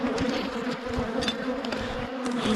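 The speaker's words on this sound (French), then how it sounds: "15 abeilles sous la cagoule, ça fait drôle." Dense, steady buzzing of many bees close by, a continuous droning hum with no voices.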